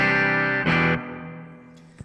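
A Telecaster plays through a TC Electronic Hall of Fame reverb pedal and a Two-Rock amp on a heavy hall setting: ringing notes, a brief bright strum, then a long fading reverb wash ending with a small pick click.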